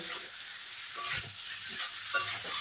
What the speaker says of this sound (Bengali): এবার সব মশলার সাথে ফুলকপি আলু খুব ভালো করে কষিয়ে নিব।